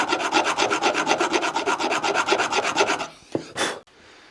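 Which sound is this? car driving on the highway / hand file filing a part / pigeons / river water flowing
hand file filing a part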